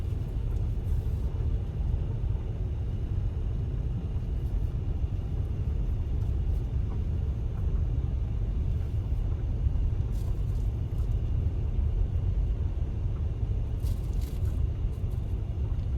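Low, steady engine rumble from inside a moving manual car as it turns right, constant and unbroken throughout with no voices.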